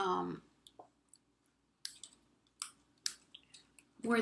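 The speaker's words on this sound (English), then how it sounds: "I'm going to snip it just a little bit past where the" Scissors snipping through paper card while making a shaker card, a few sharp, faint clicks spaced irregularly, with a person speaking briefly at the start and end.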